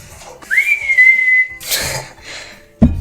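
A person whistles one long, steady, slightly rising note in a home kitchen during a Christmas log baking challenge, followed by brief clatter and a sharp knock at the end.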